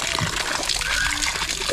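Water gushes and splashes steadily from a hand-operated water pump outdoors, loud and close, with a continuous broadband rush and no pauses.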